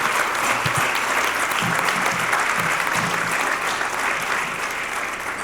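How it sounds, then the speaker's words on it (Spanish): Dense, steady audience applause for the speakers at the close of an evening medical lecture session on acute infections, a continuous wash of many clapping hands at even loudness throughout. "les brindamos un fuerte aplauso a nuestros ponentes que estuvieron con nosotros esta noche."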